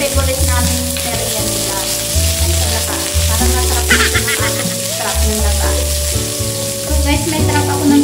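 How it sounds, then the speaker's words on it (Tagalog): Onion and garlic frying in hot oil for pancit bihon, a steady sizzle that sits under loud, continuous background music. "mainit ng mantika, saka natin ilalagay yung ating mga pag-isa. Yan ang ating sibuyas at bawang."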